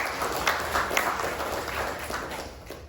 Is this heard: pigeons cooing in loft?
no